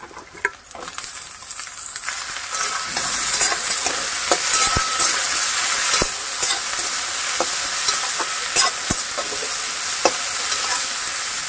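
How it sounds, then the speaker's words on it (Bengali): Cut eggplant frying in oil with dried chillies, a steady close sizzle with stirring clatter and scraping knocks throughout. "বেগুনটাকে একটু কিছুটা সময় নিয়ে ভেজে নেব"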